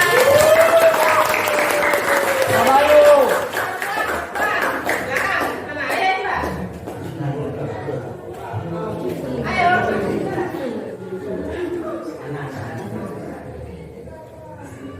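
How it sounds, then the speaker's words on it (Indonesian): A classroom of 11th-grade science students claps together for several seconds, loud and close, mixed with chatter and a teacher's voice, then fading into talk. "Tepuk tangan."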